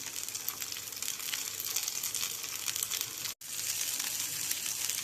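Vanjaram fish fries in a pan of hot oil, a dense, steady crackling sizzle close by that stops for an instant and then continues.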